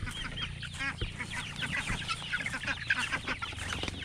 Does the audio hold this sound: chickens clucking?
yes